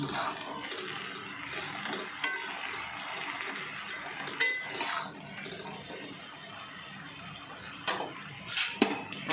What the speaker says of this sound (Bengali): এবারে কেটে রাখা ডাঁটাগুলো দিয়ে দিচ্ছি দিয়ে কিন্তু আবার ভালো করে নাড়াচাড়া করে নিচ্ছি